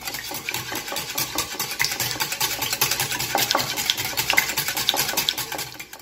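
A spoon stirs milk, sugar and cinnamon in a pan, scraping and clinking in quick repeated strokes at close range, steady and fairly quiet before fading out.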